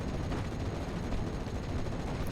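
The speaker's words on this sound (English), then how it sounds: "a firefight goes on between the infantry and the buildings ahead of it" Infantry firefight in the WWII Normandy strategy game Steel Division: Normandy 44, heard as a dense, unbroken crackle of rifle and machine-gun fire that stays loud and steady throughout.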